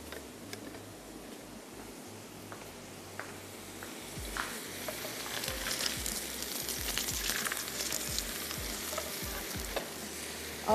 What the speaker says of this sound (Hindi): गोश्त और कद्दू दोनों को हमने साथ ही फ्राई कर लेना।